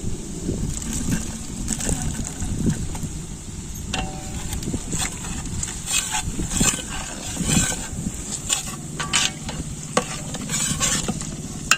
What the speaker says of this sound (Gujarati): હવે ડુંગળી શેકાઈ ગઈ. હવે આપણે નાખીશું મરચા લીલા.